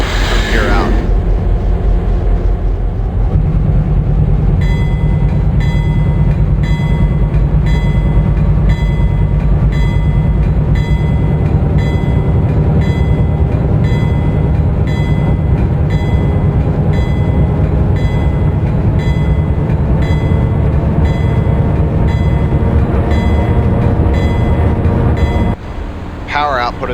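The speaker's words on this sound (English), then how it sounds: "Output of this train is insane at low speeds." A train rolls slowly along the Harrisburg to Pittsburgh line, with a loud, steady engine drone and a rhythmic, pulsing mechanical whine running unbroken for nearly half a minute before the sound drops away near the end.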